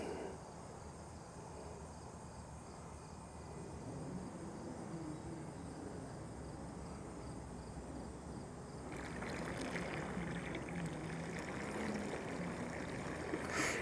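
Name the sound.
Wybot C1 robotic pool cleaner running along the water surface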